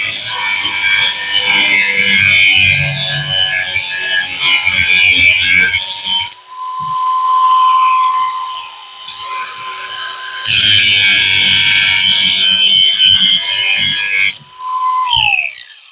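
A power saw cuts through wooden stakes, two at a time, in two long loud bursts with a quieter gap between, then a short final zip as the blade finishes.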